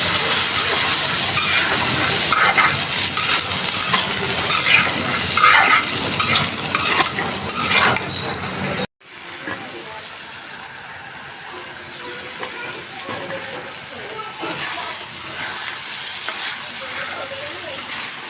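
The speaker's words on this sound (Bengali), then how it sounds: "হয়ে গেছে বুট ভাজাটা" Food sizzling and frying in a pan with stirring scrapes, loud at first, then a cut to a quieter, softer sizzle.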